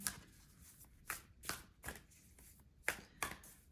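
Oracle cards being shuffled by hand: a few quick, papery riffling bursts separated by short pauses, close and fairly quiet, with no talking.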